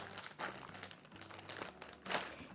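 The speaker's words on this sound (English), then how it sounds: "I'm gonna remove as much of that air from the bag," A plastic zip bag holding marinating chicken is pressed and sealed, with soft crinkling and crackling plastic rustles in short bursts, close and quiet.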